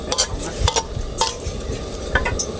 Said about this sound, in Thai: เดี๋ยวเราลวนให้สุกก่อนครับ